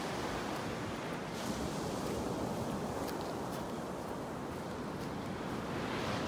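Steady ocean surf washes onto a wide beach in North Naples, Florida, a continuous broadband roar of breaking waves with light wind noise throughout, no voices.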